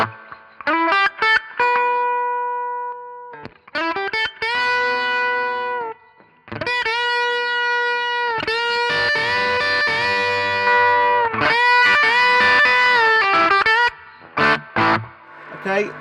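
Electric guitar played through an Origin Effects RevivalDRIVE overdrive pedal on its silicon channel, sustained distorted notes and chords in phrases with short gaps, the effect toggled off and on, loud and close with no talking.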